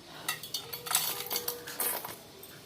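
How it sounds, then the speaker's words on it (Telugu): A bowl and cup clink and tap lightly in a kitchen as grated jaggery is added while preparing jaggery puri, a quiet series of small, bright metallic knocks. "ముందుగా మనము ఒక గిన్నె తీసేసుకొని అందులోకి 1 కప్పు తురుముకున్న బెల్లం వేసుకోవాలి"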